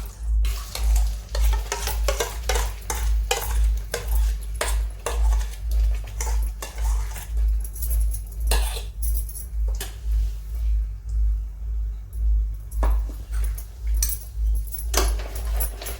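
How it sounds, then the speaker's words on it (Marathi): Finely ground carrot paste sautéed in melted ghee in a pan, with a spoon scraping and clattering against the metal in quick repeated strokes over a low rhythmic hum and a soft sizzle. "हे तुपावर आपण जरा परतून घेणार आहोत एक मिनिटासाठी पहा आपण हे एकसारखं हलवत राहायचं आहे"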